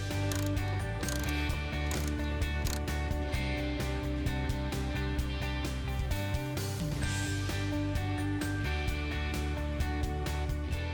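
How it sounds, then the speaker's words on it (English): An 8mm wrench works the nuts and bolts holding the scraper on a 22-inch snow thrower, giving a loud, steady run of rapid ratcheting clicks with metallic mechanical rattling that carries on for the whole stretch, with no talking. "Remove the nuts and bolts securing the scraper with an 8mm wrench."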